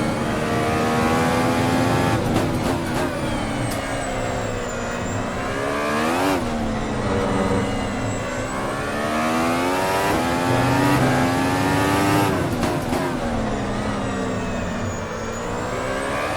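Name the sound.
race car wheel spin with open diff, AMS racing game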